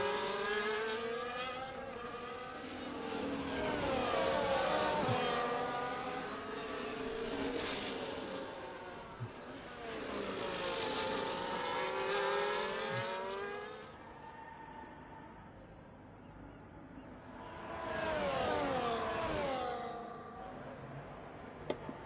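Race cars speeding around the Singapore circuit, their high engine whines rising and falling in repeated sweeping passes, loud and close, with a short lull before another car screams through.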